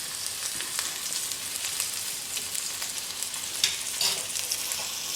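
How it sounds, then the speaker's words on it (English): Blackened steak sizzles with butter in a hot pan over high heat, a loud, continuous close frying hiss with occasional pops and scrapes, with no talking. "And this butter's going to melt, so I'm just going to let it sit on the steak for a second."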